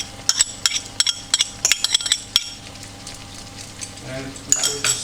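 Ginger garlic paste sautés in a pan for butter chicken. A spoon clatters and scrapes against the pan in quick, uneven strikes over a steady sizzle, then the sizzle swells toward the end.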